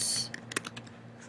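A few light, quick keystrokes on a computer keyboard while typing a class post, soft and close, sparse taps over a quiet room.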